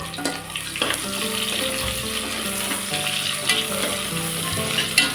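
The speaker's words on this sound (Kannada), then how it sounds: "ಈಗ ಇದಕ್ಕೆ ಈರುಳ್ಳಿ ಹಾಕೋತಾ ಇದ್ದೀನಿ ಈರುಳ್ಳಿ ಸ್ವಲ್ಪ ಚೆನ್ನಾಗಿ ಕೆಂಪಾಗಬೇಕು" Onions sizzling and frying in a hot pan for soya chunks pulao, a steady close crackle with occasional stirring scrapes throughout.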